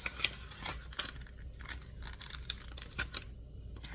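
Kitchen scissors are picked up and handled, giving faint, close clicks and light metallic snips scattered irregularly in a quiet room.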